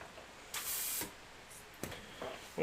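An airbrush sprays paint in short hissing bursts, one longer burst followed by a couple of quick, fainter puffs, close up in a quiet room with no talking.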